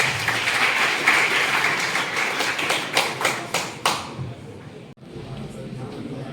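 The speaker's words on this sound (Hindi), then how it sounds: "उनको जोरदार तालियों से उनका स्वागत करिए।" Indoor audience applause at a civil services IAS/PCS event greeting Dr. S.K. Chaudhary, an ethics teacher, as he is welcomed on stage: dense clapping that thins into a few separate claps before breaking off, with some background voices.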